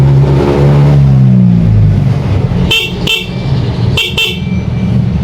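Electric bike horn sounding after repair, a loud, close steady tone at first, followed by four short, sharp beeps in two quick pairs.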